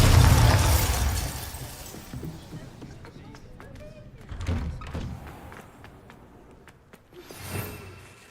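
Glacius and Bombarda spells cast in Hogwarts Legacy: a loud blast and rumbling burst at the start, then scattered cracks, thuds and shattering impacts, with a further bang near the end.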